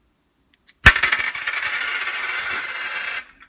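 Three quarter coins tossed for an I Ching reading, hitting a hard surface with a sharp impact and then a long bright metallic rattling spin that stops abruptly.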